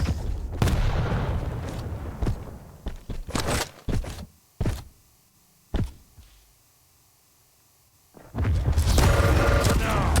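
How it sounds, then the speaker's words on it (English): Heavy machine gun bursts in a Quake pro league duel, loud clustered volleys and thuds separated by near-silent gaps, with a dense roar of fire returning at the end. "Cooler still continuing it on, firing out with the HMG."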